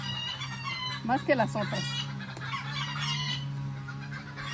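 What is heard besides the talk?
chickens clucking and crowing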